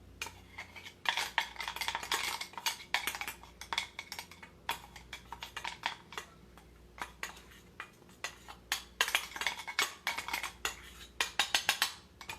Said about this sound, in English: I'm just going to layer the coconut paste on top